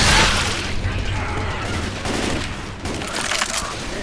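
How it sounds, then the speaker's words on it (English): Close, loud gunfire in Left 4 Dead 2 comes as rapid, dense bursts of shots with heavy booms that carry on without a pause. "Are you out of your mind shooting at me?"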